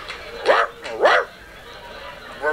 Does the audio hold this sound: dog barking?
yes